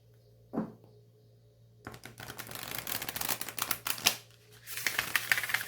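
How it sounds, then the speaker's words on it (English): An oracle card deck being riffle shuffled, a dry flurry of rapid papery clicks and flutters that builds, pauses briefly, then resumes, close and fairly quiet after a single soft tap at the start. "Let me try one more riffle shuffle."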